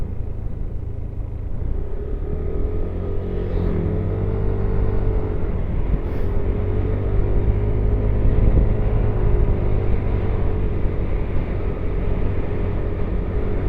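A motorcycle rides along a road toward the mountains on the way from Bulacan to Dingalan, its engine giving a steady, close rumble with wind noise throughout and no voices.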